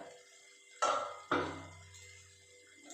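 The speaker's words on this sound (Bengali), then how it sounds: "দেখুন ঢাকাটা খুললাম" A metal lid is lifted off a pot of chickpeas (kabuli chana) steaming on the stove, giving two sharp clinks close by, each trailing into a short ringing hum, with faint kitchen noise and no talking.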